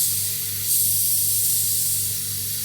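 Methyl flush sprayed through the condenser of a punctured, leaking refrigerator gives a steady, loud, close hiss that holds without a break, with no talk.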